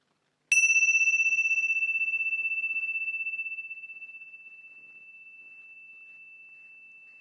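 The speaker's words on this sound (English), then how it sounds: "finally notice the sound of the bell" One strike of a meditation bell rings out clear and pure, then sustains a steady tone that slowly fades over several seconds in otherwise quiet surroundings.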